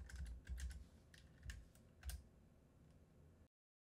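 Typing on a computer keyboard: a quiet burst of clustered key clicks in uneven rhythm for about three seconds, close and alone, then silence.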